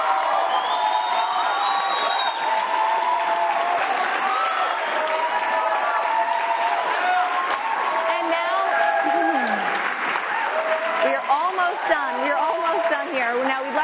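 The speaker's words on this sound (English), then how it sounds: "A big round of applause, of course," Audience applause and cheering at a U.S. Senate special election primary debate at UMass Lowell: a dense, steady crowd roar with whoops, voices mixed in, sustained for the whole stretch.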